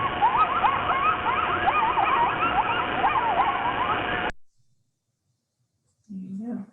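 A family group of wild mammals from New York calls to one another in a run of rapid, wavering yips and yaps, loud and busy for about four seconds, then it cuts off; after a pause a low voice begins.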